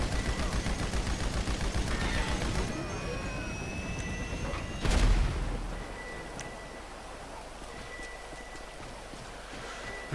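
Minigun fire in GTA Online roars as a continuous, rapid buzzing stream for several seconds, broken by one sharp loud impact, then fades to a quieter rumbling background of distant shooting.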